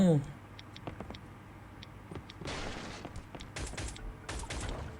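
Gunfire in the video game Last Island of Survival: a scattering of sharp shots early on, then dense rapid bursts of firing in the second half, loud and close, with a voice heard briefly.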